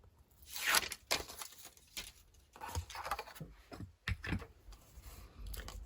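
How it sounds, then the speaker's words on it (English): Release paper is peeled off a papercraft piece in a series of crisp tearing and crinkling rasps, close and quiet, in irregular bursts with small handling clicks between them. "Remove our release paper."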